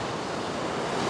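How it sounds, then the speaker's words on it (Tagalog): Sea waves rolling in at high tide, a continuous loud rush of surf with wind noise buffeting the microphone, no voices. "Yan yung dagat oh. Pa-high tide na oh."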